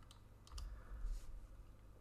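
Quiet, soft typing on a computer keyboard, a few light clicks and taps over a low background hum, with no voices.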